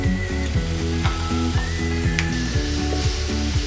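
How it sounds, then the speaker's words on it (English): Cashew nuts and other ingredients for chicken tikka butter masala sauté in a pan with a steady close sizzle, while a repeated ratcheting mechanical clatter runs underneath. There is no speech. "cook all this ingredient till it's little soft in texture, lightly sauté"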